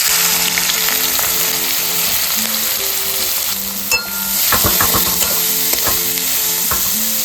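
Chopped onions dropped into hot oil in a pan, loud and close, with a dense steady sizzle and crackle, a brief clatter partway through, then stirring scrapes under the frying.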